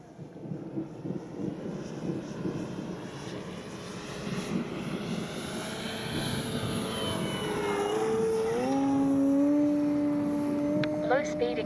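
Avios Extra NG 1600 RC aerobatic plane flying in strong wind, its engine drone steady and moderately loud, then rising into a higher, sustained whine toward the end.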